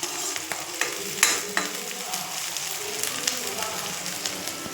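Dried red chillies fry and crackle in hot oil in a pan, a steady close sizzle with occasional stirring scrapes and sharper pops throughout.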